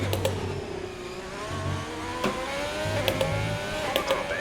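Ferrari Formula 1 car engine on a hot lap of the Sochi circuit, a sustained high whine rising and falling through gear changes, heard from inside the cockpit at a steady, moderately loud level without talk.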